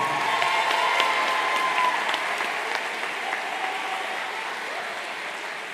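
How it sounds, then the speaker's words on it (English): A crowd applauds at the City Neighbors High School graduation ceremony for the class of 2022. The clapping is loud, dense and sustained, with faint crowd noise beneath it. It eases slightly toward the end but never stops. "Give him another round of applause."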